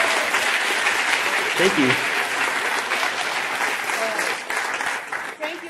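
An audience applauds at the close of a lecture on geometric shapes in nature, a steady wash of clapping that tapers off near the end, with a brief spoken thanks.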